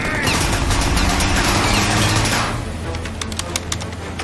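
Dense gunfire from Mafia: Definitive Edition crackles loudly through the first two and a half seconds, then sparser shots continue more faintly.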